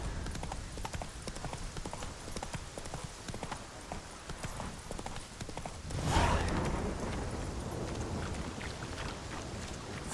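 Roach, a horse in The Witcher 3, gallops with a fast, continuous clip-clop of hooves, and a brief whoosh swells partway through before the galloping carries on.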